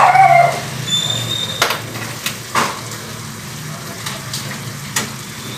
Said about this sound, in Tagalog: Tapos ilalagay na natin yung ating kakang gata worth 30 pesos.